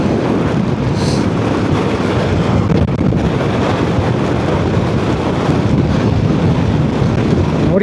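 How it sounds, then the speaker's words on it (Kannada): Strong wind at the Khardung La mountain pass roars steadily and loudly across the microphone, a dense, unbroken buffeting rush that fills the whole stretch with no voices. "ನೋಡಿ ಯಾವ ಪಾಟಿ ಗಾಳಿ ಇದೆ."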